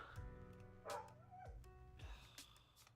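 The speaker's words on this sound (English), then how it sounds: "Someone put the dog in his cage and now he's crying." A dog confined in its cage cries, giving several short whimpering yips and whines with rising and falling pitch, fairly faint and close, separated by brief pauses.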